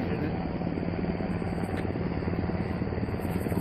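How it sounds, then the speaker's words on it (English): A helicopter drones steadily overhead with a dense, continuous rotor thrum that stays loud and unbroken, with no voices over it. "that chopper better not circle back around"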